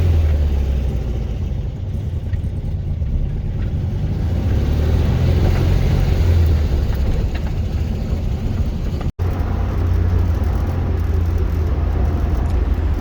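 A Morris Minor drives along roads around Gateshead, heard from inside as a loud, steady engine drone and road rumble that continues without pause and without talk.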